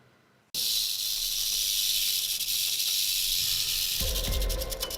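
A rattlesnake named Big Bob buzzes after a moment of silence, a loud, continuous close-up rattle-hiss that holds steady, then gains a lower rumble near the end.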